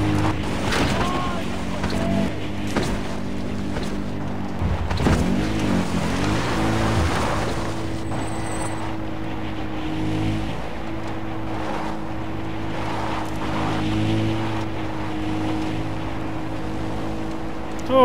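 Vehicle engine droning steadily through gameplay in Far Cry 4, a continuous low rumble with shifting tones, joined by splashing water and occasional bursts of other game sounds.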